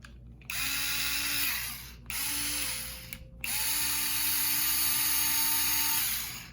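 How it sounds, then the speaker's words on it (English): A Hyper Tough 4V cordless screwdriver drill whirs in three bursts, short stops between them, the last run longest, loud and close with a rising then steady pitch. "So this is screwdriver drill."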